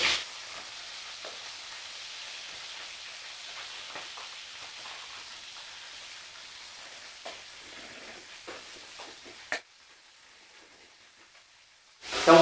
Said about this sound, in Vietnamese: Trong khi chờ đợi rán cá để đỡ mất thời gian